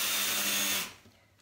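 A power drill bores through a baseball, a steady loud whine lasting under a second before cutting off abruptly, followed by faint low rustling.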